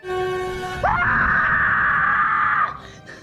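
In a ghost film, a woman lets out a sharp, loud scream that leaps up in pitch and holds as a sustained shriek for nearly two seconds before breaking off.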